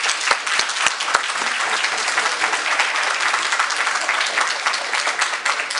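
Sustained applause from an audience at an education standards hearing, a dense steady wash of many hands clapping with no voices over it.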